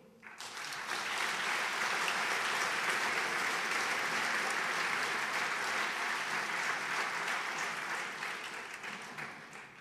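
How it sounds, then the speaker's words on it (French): An audience at a foundation's tenth-anniversary gala bursts into sustained, dense applause that rises quickly and holds steady for several seconds before tapering slightly, heard without talking. "J'aimerais que nous l'applaudissions"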